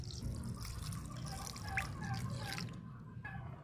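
Water trickles and drips into a bowl of dried rice noodles (bihon) set to soak for pancit, a close, uneven splashing that fades toward the end, with no voices.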